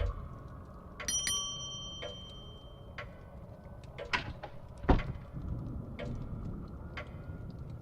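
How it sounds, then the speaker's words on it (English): A manor bell in the Seance of Blake Manor video game rings with a bright metallic strike, followed by scattered knocks and clicks over a quiet ambient background. "let me ring the bell"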